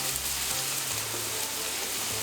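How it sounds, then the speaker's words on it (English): Onions frying in a mix of butter and oil for a samp dish, giving a steady, close sizzle and crackle without talk. "We're frying some onions."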